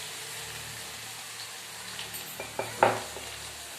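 Garlic is dropped into hot oil in a home kitchen pan, giving a steady close sizzle of frying with a few small clattering knocks near the end.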